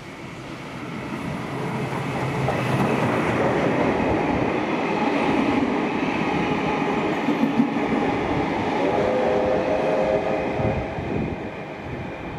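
Steam locomotive 3642 hauls its train through Thirlmere, New South Wales, on the return run toward Sydney, a loud sustained rumble of wheels and carriages rolling past close by for the whole stretch, with no voices.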